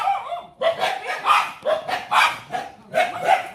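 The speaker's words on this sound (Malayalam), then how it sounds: "പട്ടി വെളിയിൽ ഏതോ പട്ടികൾ കിടന്ന് ബഹളം വയ്ക്കുന്നത്." Several dogs bark outside in repeated bursts of yapping and bow-wows with short pauses between volleys, fairly close and loud, with puppies in the house.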